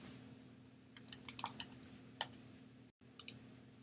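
Scattered keystrokes on a computer keyboard, a few short quick clusters of light clicks over a quiet room hum.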